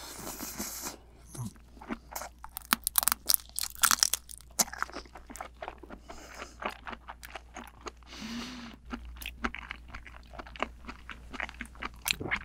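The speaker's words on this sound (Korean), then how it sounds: "알이 톡톡 터져." Close, crisp chewing of large raw Dokdo Dohwa shrimp dipped in shrimp roe, with repeated wet crunches and soft popping bites in an irregular rhythm, loud and alone without talk.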